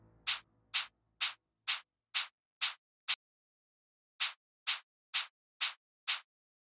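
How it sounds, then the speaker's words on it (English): A soloed, heavily distorted shaker loop from a techno production, hissing in sharp, evenly spaced bright hits, seven in a row, a short gap, then five more, loud and alone. "So if I solo the shakers now, this sounds like this."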